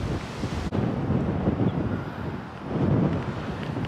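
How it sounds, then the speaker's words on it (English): Strong wind buffeting the microphone on an open coastal footpath, a continuous rough roar that swells and eases, loud and close with no voices. "I think it's getting windier."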